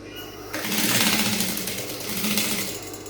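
Sewing machine stitching down a strong reinforcing seam on Victorian corset blouse fabric, starting abruptly after a moment of quiet and running continuously and loudly for a few seconds.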